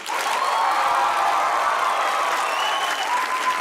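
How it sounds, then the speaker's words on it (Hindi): Studio audience applause on a comedy talk show, a dense, even burst of many hands clapping that holds steady throughout, loud and continuous with faint cheering. "तो बजाइए तालियां"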